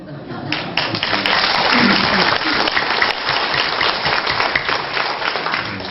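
An audience applauds at a Bucheon Chamber of Commerce breakfast meeting lecture, a dense, loud, continuous wash of many hands clapping that lasts throughout.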